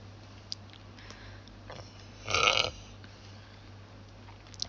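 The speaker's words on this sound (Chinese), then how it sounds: "再打嗝了" A single short burp, close and clear, in an otherwise quiet indoor room with faint background hum.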